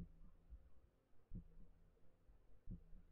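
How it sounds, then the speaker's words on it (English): A heartbeat sound effect in the video game Forest Stairs thumps softly and deep, double beats repeating at a slow, steady pace about every 1.3 seconds, quiet and alone. "My heartbeat."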